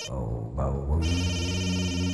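A phone rings with a steady electronic tone that loops continuously, with no voices.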